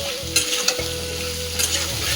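Food fries in a pan with a strong, continuous close sizzle, broken by a few sharp scraping stirs of a utensil and a low steady hum in the background, with no speech.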